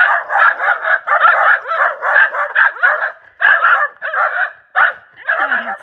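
Several dogs bark in rapid, overlapping bursts along a rural French walking route, loud and close, with yips and short pauses between volleys.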